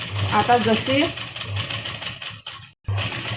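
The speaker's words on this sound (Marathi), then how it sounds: "दाब वरती उचलायचा आणि शिलाई मारायची" A sewing machine stitches a blouse sleeve in a steady, close whirring run that pauses briefly and then resumes, partly under a voice.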